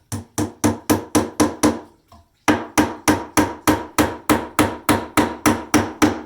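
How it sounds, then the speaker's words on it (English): A hammer drives a nail into a wooden plank in a steady run of loud, sharp blows, pausing briefly before another rapid series of hits. "I'm going to grab a nail and a hammer from over here"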